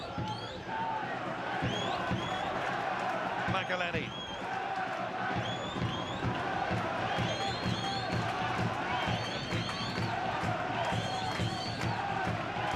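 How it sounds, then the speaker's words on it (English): A large football crowd at a League of Ireland Premier Division match between Derry City and Sligo Rovers roars and cheers continuously, loud and dense throughout, under excited commentary. "Now the crowd are on their feet."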